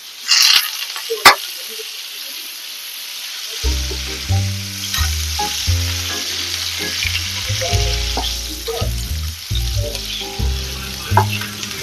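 Chicken garlic sausages fry in a little oil, crackling and sizzling steadily up close; a couple of sharp knocks come early, then background music plays under the frying for most of the stretch.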